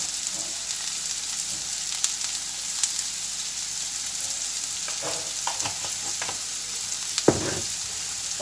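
Onions and salt sautéing in a pan for a Kerala-style egg curry, a steady close sizzle with scraping stir strokes now and then and a louder clatter near the end.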